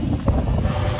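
Wind buffets the microphone in a steady low roar with rumbling gusts at Rizal Park in Manila on a cloudy day, continuous throughout and with no voices.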